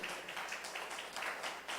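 Congregation applauding at a Spanish-language church service, a short burst of dense, continuous clapping from many hands, moderately loud and even throughout.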